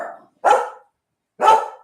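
Two sharp, loud barks from a small dog on a farm in the Philippines, spaced about a second apart, close by with no talking over them.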